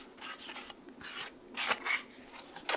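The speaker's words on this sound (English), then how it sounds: "I have this really like barely damp shop towel. I'm just gonna wipe it to get off any of the sawdust" Barely damp shop towel wiped over sanded wood to lift sawdust, heard as several short close rubbing strokes in irregular bursts, no voices.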